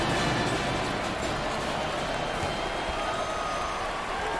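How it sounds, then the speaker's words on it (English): A loud college basketball arena crowd in NCAA Basketball 10 on PS3 keeps up a dense, steady roar of cheering and applause with no break. "Not only is this crowd loud, but they give their team that next level of energy that lasts all game long."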